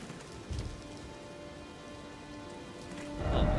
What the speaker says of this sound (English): please just stop the rain!